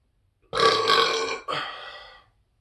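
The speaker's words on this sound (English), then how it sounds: "I'm holding in a Coke Zero, so hopefully I get a loud burp." A loud, drawn-out burp after drinking Coke Zero, rumbling for about a second, then a short break and a second, slightly quieter burp trailing off, heard close up with no talking.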